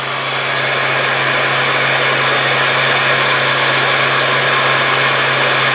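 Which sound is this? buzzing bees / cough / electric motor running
electric motor running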